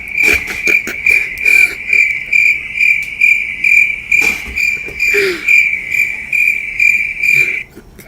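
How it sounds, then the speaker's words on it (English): Cricket chirping dubbed in as a comic silence cue, loud and close, a steady high-pitched pulsed trill repeating in regular bursts for about seven seconds, then stopping abruptly. "we gotta cue the crickets"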